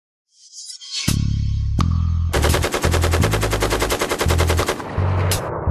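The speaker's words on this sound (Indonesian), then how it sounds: "ia bisa menembak dalam tembakan tunggal atau rentetan" AM416 automatic rifle fires repeated rapid bursts, loud, sharp and close, a couple of single cracks first and then sustained strings of automatic fire with brief pauses between them.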